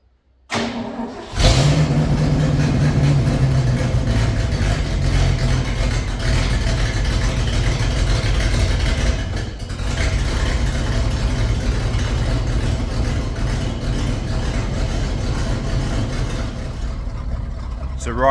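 An old Ford truck engine cranks and catches on a cold start, then settles into a steady, rough low idle that runs on throughout.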